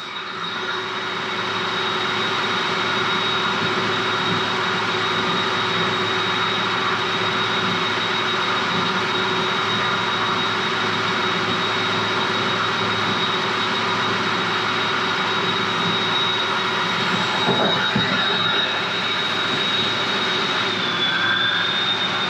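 A Vanquish H10 Optic 1/10 trail buggy on Yokohama tires runs on a roller dyno, giving a loud, steady electric motor and roller whine for over twenty seconds that eases slightly near the end.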